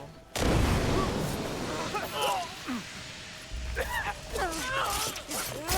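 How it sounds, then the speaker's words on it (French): A smoke bomb bursts in the Assassin's Creed Shadows video game with a sudden loud whoosh and hiss, followed by combat clashes and pained cries as the fight continues. "on va essayer la bombe fumigène pour les tuer les deux en même temps"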